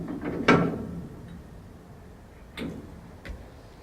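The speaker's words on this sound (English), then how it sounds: "We can go ahead and pull the pins out of place and raise them in their store position" Metal pins are pulled and the rear legs of a snow plow are raised into their stored position, giving one loud clank followed by a few sharper metallic clicks spaced apart over quieter background.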